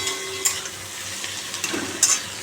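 A Bengali fish curry cooking in a pan with onion, green chilli and tomato makes a steady sizzle and bubbling, with a few sharp clinks and stirring scrapes close by, no voices.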